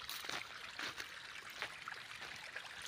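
Irrigation water flowing into an onion field at dawn, a faint continuous trickle and gurgle with small splashy surges, heard alone in a quiet outdoor setting.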